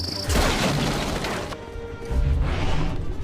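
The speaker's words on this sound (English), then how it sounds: "Bomb!" Heavy bomb blast from an animated Clone Wars battle, a loud crashing burst with crackling debris that decays over about a second before rumbling impacts return.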